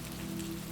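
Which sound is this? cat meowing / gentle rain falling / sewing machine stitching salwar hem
gentle rain falling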